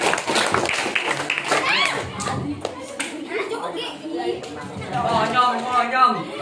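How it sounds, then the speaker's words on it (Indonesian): Students in a classroom clapping for a classmate called to the front, sharp hand claps in bursts amid children's chatter and voices, fairly close and lively. "Tepuk tangan buat teman kalian."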